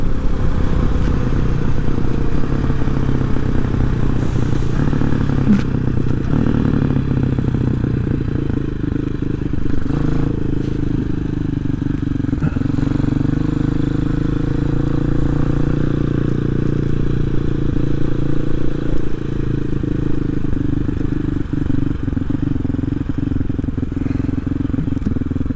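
A Hawk 250 motorcycle fitted with a Loncin RE250 six-speed engine roars steadily on a test ride, its engine revving high and pulling up through the rev range, loud and close with rattling mechanical clatter throughout.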